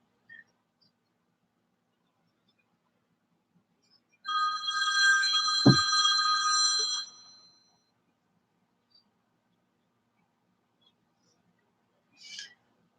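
Phone ringing once indoors: a short burst of bright electronic ring tones lasting a few seconds against near silence, with a faint click near the end.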